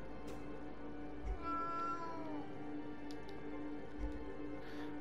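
A cat meows in the video game Moonscars, a few drawn-out tonal cries over a steady music bed, moderately close, with no talking.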